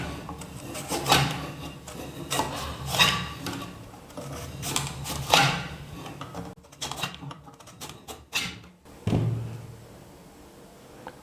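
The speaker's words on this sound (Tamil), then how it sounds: "இப்போ நான் வந்து கடையில் விற்கிற மாதிரியே இந்த மாதிரி ஸ்லைஸ் பண்ணிக்கிறேன்." Knife thinly slicing a vegetable on a cutting board for bakery-style chips, a series of soft, irregular chopping taps and scrapes, fairly faint and close, with small pauses between cuts.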